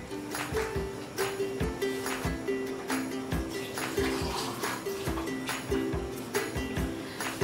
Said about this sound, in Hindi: मेरे ख्याल में थोड़ा सा और पानी डाल देते हैं।